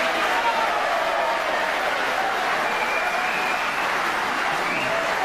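A crowd at other tables during a snooker match at the World Championship, a broad distant roar of cheering and applause sustained throughout the moment.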